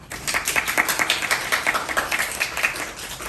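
A small audience claps after a student's presentation, a brief round of fairly close, distinct handclaps in a quick irregular rhythm with no talking over them.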